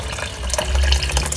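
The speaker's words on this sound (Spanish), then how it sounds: "Aquí le voy a poner poquita más agua" Water poured into a pot of Sinaloa-style shrimp stew (tixtihuil de camarón), a brief loud splashing, gurgling pour heard alone.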